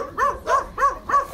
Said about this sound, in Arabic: ففي كثير من الكلاب